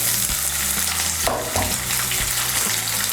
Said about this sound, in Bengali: এর মধ্যে প্রথমে আমি সোয়াবিনগুলো ভেজে নেব।